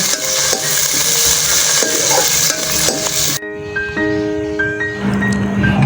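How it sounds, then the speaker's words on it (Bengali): Loud, steady sizzling of chopped onion, garlic and green chilies in a hot pan fills the first half, then quieter frying continues with scraping stirs and clinks of a utensil against the pan. "দিয়ে কিছুক্ষণ ভেজে নিব"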